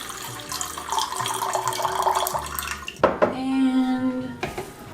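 Tap water runs in a kitchen to fill a cup for making kombucha, first a busy splashing stream over background music, then a clearer rising pour as the cup fills, ending with a short clatter.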